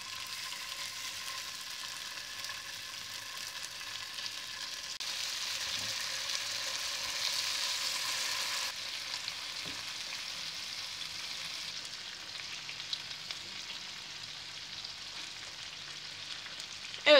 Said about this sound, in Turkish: Şu deri kısmı alta gelecek şekilde koydum. Gördüğünüz gibi tavam ısınmış. Diğerlerini de diziyorum.